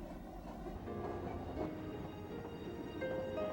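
A train on the White Pass railway out of Skagway, Alaska rumbles steadily along the rails with a continuous low roar, some faint squealing tones rising near the end.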